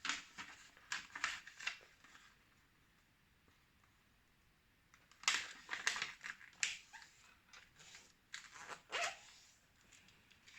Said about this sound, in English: Next we'll open it and turn it around and fold it on both diagonals.